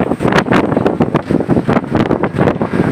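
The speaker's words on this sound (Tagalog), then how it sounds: "grabe lakas ng hangin" Strong gusting wind from a thunderstorm in Ilocos Norte, roaring and buffeting the microphone in repeated surges, loud and close, with no talking.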